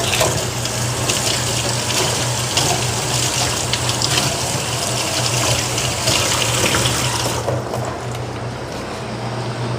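Tap water runs steadily into a kitchen sink while parsley is rinsed, a loud, continuous gushing that eases slightly near the end, with no talking.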